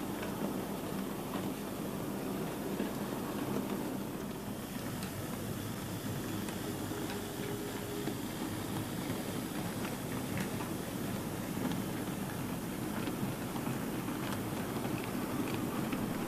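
Model Hattons P-Class locomotive, number 5753, runs steadily while moving loaded wagons, giving a continuous hum and faint rolling clatter at even volume, with no voices.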